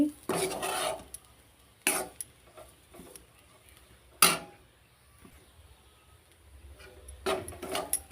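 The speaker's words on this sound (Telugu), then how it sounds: "ఈ విధంగా మీడియం ఫ్లేమ్లో పెట్టి ఇలా కలుపుకోవాలి" A spoon scrapes and stirs coconut laddu mixture in a pan over a medium flame, giving a few distinct clinking, rubbing strokes spaced apart with quiet gaps between them.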